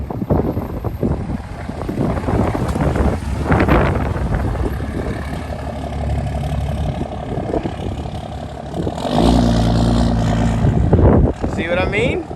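A truck with a swapped 3G Cummins diesel engine drives up the road and past, a heavy low rumble that swells and rises sharply near the end, with people talking nearby.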